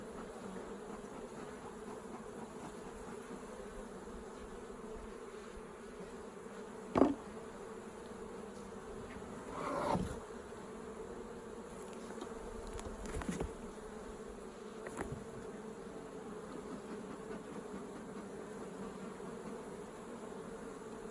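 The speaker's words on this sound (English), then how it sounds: "we're down at the brownworm hive in our apiary, and this has been our problem hive" Honeybees at an apiary beehive with comb problems in the brood chamber give a quiet, steady buzzing hum that runs the whole time. A few brief knocks and bumps from handling the hive come through, and nobody talks.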